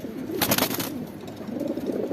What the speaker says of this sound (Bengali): আমাদের এটা হইতেছে আমাদের নতুন বেজি কবুতর